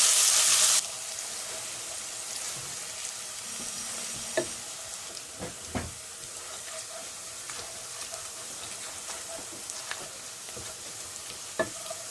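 Onions frying in oil in a pot for a mash and chana dal dish, a steady soft sizzle with a few sharp clicks and scrapes of stirring, a louder burst at the very start.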